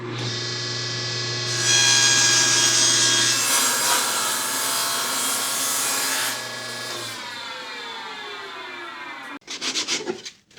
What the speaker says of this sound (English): I'm going to trim these on the table saw